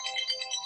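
A phone ringtone playing a bright, rapidly pulsing electronic trill, steady and fairly loud, with no talk over it.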